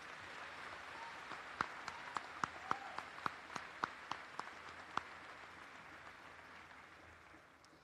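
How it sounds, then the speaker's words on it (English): At a 2024 Mooresville High School graduation ceremony, the audience gives faint, scattered applause: roughly a dozen distinct claps that thin out and fade away. "Please join me in giving the awesome class of 2024 a round of applause for their many achievements and"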